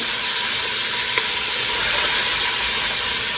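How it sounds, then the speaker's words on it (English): Vegetables dropped into hot grease in a pan sizzle loudly and steadily with a dense, even hiss that continues throughout, close up and without talk. "make sure I have enough grease, and I do. Go ahead, I'm going to drop my vegetables. Let them cook up a little bit."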